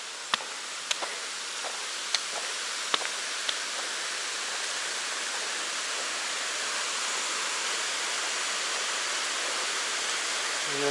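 A waterfall near a swimming spot on the Foothills Trail by Lake Jocassee gives a steady, broadband rushing roar that stays even throughout, with a few faint clicks early on and no talking.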